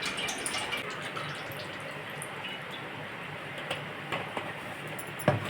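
Coconut oil and sesame oil poured into a pan for homemade hair oil, a soft, steady liquid trickle running throughout with a few faint clinks near the end.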